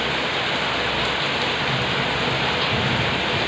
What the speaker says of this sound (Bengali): হাতে বৃষ্টি ধরেছ?